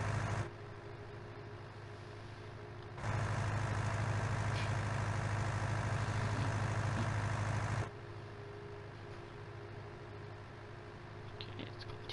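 A vehicle engine in Farming Simulator 19 drones steadily while driving, a low continuous rumble that swells louder for several seconds in the middle before settling back to a quieter hum.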